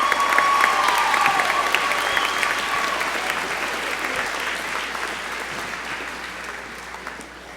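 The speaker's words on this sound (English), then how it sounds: "Can we get one more round of applause for our band and chorus?" A graduation audience applauds the band and chorus with broad, sustained clapping from a large crowd that fills the hall, steady at first and easing slightly toward the end.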